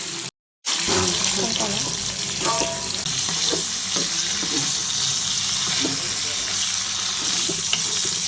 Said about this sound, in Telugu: ఎండు చేపలు వేగడం అయిపోవచ్చింది